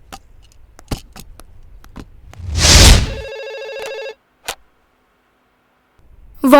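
A telephone rings in an office, a brief burst of bright, steady electronic tones that stops after about a second, with soft taps and clicks around it and a quiet pause following.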